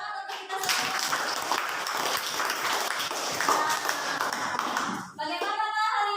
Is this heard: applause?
yes